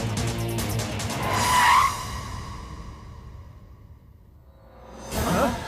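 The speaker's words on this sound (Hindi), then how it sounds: "गाड़ी भगा।" A car speeds away, tires squealing in a loud screech that peaks and fades into the distance, followed by another whooshing pass near the end, with no talking.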